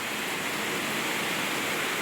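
A strong downpour roars on without pause, a thick even hiss of heavy rain close by, with no speech in it.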